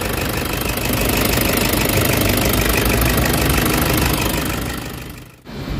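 A Toyota Hiace Commuter van engine with a valve train knocking and vibration fault runs loud and close, a steady rattling tick over a rough idle that fades and drops out near the end, no talk.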